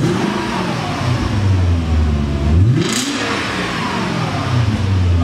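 A BMW E38 730i with a modified exhaust revs under sudden throttle, rising sharply to a loud peak, dropping back and then building again, heard close and clear without speech.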